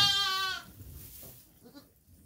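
A large newborn lamb gives one loud, close bleat at the start, followed by soft handling noises and faint rustling.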